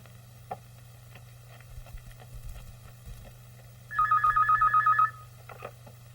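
A telephone rings once in a single electronic trilling burst lasting about a second, over a steady low hum with faint background clatter.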